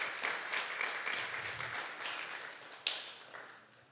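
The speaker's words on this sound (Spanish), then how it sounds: "Dele otra vez un fuerte aplauso a nuestro Dios" Church congregation applauding during a sermon, a moderate steady patter of clapping from a gathered crowd with one sharper clap standing out near the end, fairly quiet overall and without speech.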